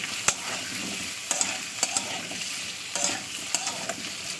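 Papaya and potato pieces frying in hot oil in a home kitchen, with a steady soft sizzle broken by several sharp scraping clicks of a spatula stirring, close and alone.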